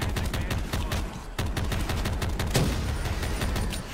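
Rapid automatic gunfire in Black Ops 3 Custom Zombies on the Andy's Room map, aimed at a Panzer enemy; a dense, steady stream of close, loud shots rattling without pause.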